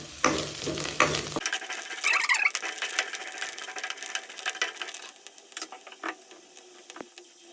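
Tempering ingredients for curd rice frying in a pan, a busy crackling sizzle that starts loud, then settles into softer sputters and scattered pops, with no talk.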